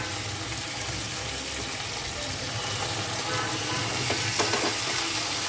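Potatoes frying in a pan with spice paste being added, a steady close sizzle and crackle throughout with brief clatter of stirring near the end.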